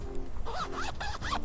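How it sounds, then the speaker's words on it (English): A zipper on a pants pocket is zipped in several quick, rasping strokes, close to the microphone over faint outdoor background noise near mangroves. "Zippers, baby, so my phone is nice and safe."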